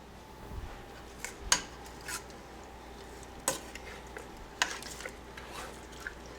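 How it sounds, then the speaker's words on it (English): A spoon stirs cornstarch into peach filling in a pot, giving a few sharp scrapes and clinks against the metal over a quiet background, spaced irregularly with soft rubbing between them. "then I'm going to stir that right in"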